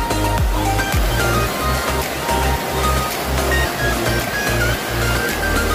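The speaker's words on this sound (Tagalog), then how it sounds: "sobrang lakas ng agos" Loud, continuous rush of the fast-flowing Labi River in Bongabon, Nueva Ecija, a steady broadband roar close by with low rumbling surges and no voices.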